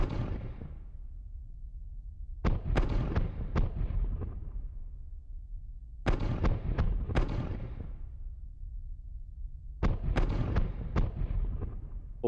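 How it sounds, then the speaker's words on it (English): Spaceship weapons in the Spacebourne 2 game fire in three heavy rounds of booming blasts, each a cluster of sharp cracks trailing into a low rumble, with quieter stretches between. "Right, let's just open fire on it."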